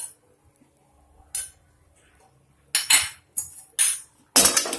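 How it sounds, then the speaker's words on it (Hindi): Roasted ginger stirred into roasted flour in a pan, heard as a few sharp, close scraping and clinking strokes of a utensil against the metal with quiet pauses between them. "अदरक को भी हमें अच्छी तरह से इसके अंदर मिला देना है।"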